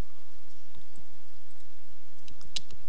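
A few sharp mouse clicks, close and quiet, spaced irregularly, with a brighter click near the end; no talking.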